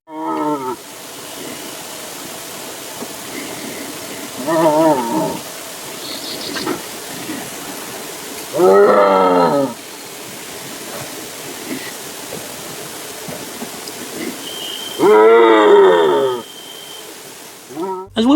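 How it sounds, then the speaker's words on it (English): Striped hyena calling in three separate bursts of harsh, wavering vocalisation, each lasting about a second, spaced several seconds apart over a steady background hiss. "now, I give you the call of the striped hyena"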